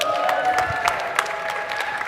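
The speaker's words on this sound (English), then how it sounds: "I'm already getting applause before we even vote." Audience applause at a conference session on spatial map visualizations, a short burst of scattered clapping with a few louder claps standing out, moderately close and without speech.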